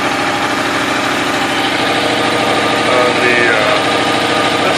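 A 1986 Kawasaki Ninja 1000R superbike engine idles steadily up close, a loud, even rumble with no revving and a slight rise in intensity near the end.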